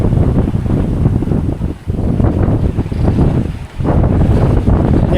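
Strong, gusty 25-knot following wind roaring across the microphone aboard a sailboat in the Exumas, Bahamas, loud and continuous with brief lulls, with a faint wash of water beneath.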